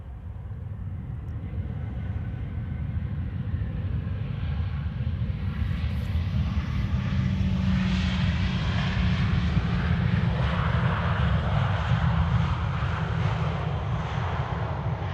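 Shamrock flight 604 from Dublin arrives at Amsterdam Schiphol, its engines building into a swelling, fairly distant roar with a slowly shifting tone, no voices present.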